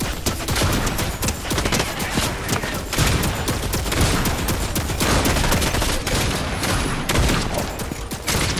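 An automated turret in Fortnite fires continuous rapid bursts, loud and close throughout, with steady machine-gun chatter layered over explosive impacts.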